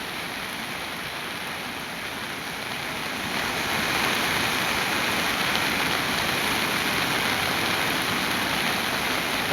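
The swollen Shevate river in full flood after heavy monsoon rain, a continuous roaring rush of water that swells louder partway through and stays steady and close with no voices.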